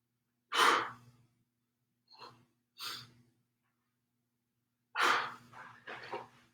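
Breaths during a home workout done while staying inside, heard as a sharp inhale-exhale burst, two short softer breaths, then another strong sigh-like exhale followed by a quicker breath, close and alone with no talk.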